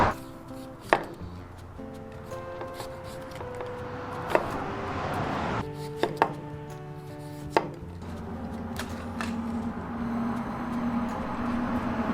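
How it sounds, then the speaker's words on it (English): Vegetables are chopped on a board in a minivan camper, giving scattered knife thuds over a low background rumble. "I'm just gonna cook up some eggs and chop some vegetables and toss them in there"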